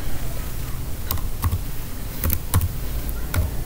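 Typing on a computer keyboard with an English layout, a handful of sharp, close key clicks in an irregular, hesitant rhythm over a low background hum.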